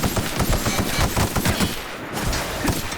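Rapid, continuous automatic gunfire from The Outer Worlds, loud and close, with steady rattling shots that barely pause before resuming.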